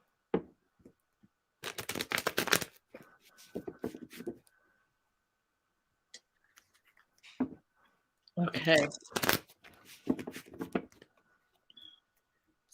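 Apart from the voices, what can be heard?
shuffling cards for a reading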